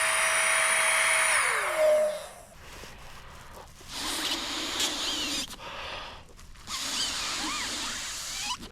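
An electric air pump inflates a camping mattress in winter tarp camping on snow, producing steady broadband whooshing bursts that start, pause and resume across the clip, loud and close, with a falling tonal whine early on.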